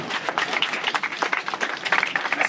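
Crowd applauding at an anti-police-brutality solidarity vigil rally in downtown Frederick, Maryland, a dense, fairly close burst of clapping that carries on throughout with uneven swells.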